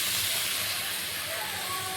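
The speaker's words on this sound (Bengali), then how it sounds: "এবার চর্বিটা দিয়ে দিচ্ছি।" Animal fat dropped into hot oil with spices for tarka dal sizzles loudly and steadily, a dense close hiss filling the whole moment.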